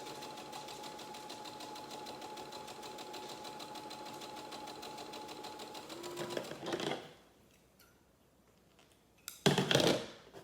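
A sewing machine stitches blue fabric in a fast, steady mechanical whir for about six seconds, then stops. A couple of short handling rustles follow in the quiet.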